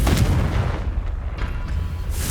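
A deep boom from the Confringo fire spell in Hogwarts Legacy rolls out loud and close, with a rumbling tail that lingers and swells again near the end.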